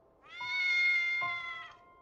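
A cat in an anime scene lets out one clear, drawn-out meow that rises and then falls over about a second and a half, close and alone against a quiet background.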